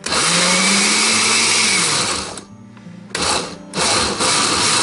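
A blender motor whirs loudly and steadily while working through a thick potato dumpling mixture with egg, cuts out briefly, then roars back on in short bursts, with no talking.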